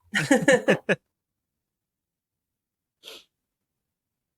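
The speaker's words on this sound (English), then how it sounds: "I have to sneeze." A voice speaks briefly, then after a pause a single short sneeze sounds, followed by silence.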